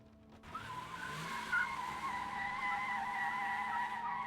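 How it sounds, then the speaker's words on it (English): An SUV rolling backward with its tires spinning and skidding, a loud sustained screech that starts abruptly and holds steady under a low engine rumble, heard alone. "The SUV started to roll backward with an ear-splitting scratch."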